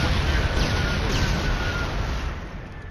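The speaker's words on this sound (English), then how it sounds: "That explosion cleared out the way!" A big rumbling explosion in Killzone on PS3 roars and slowly fades, loud and close, with a long decaying boom.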